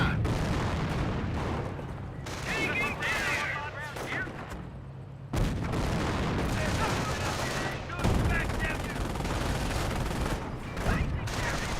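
Gunfire and artillery in the WWII strategy video game Company of Heroes: bursts of rifle and machine-gun fire mixed with heavy booming explosions, dense and continuous, with brief pauses and a sharp blast midway, over a commentator's voice.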